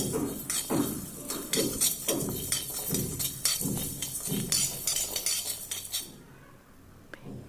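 A spoon clinks and scrapes steadily against a pan as spices such as panch phoron, asafoetida and nigella seeds fry for an Assamese pickle, in regular strokes that stop near the end.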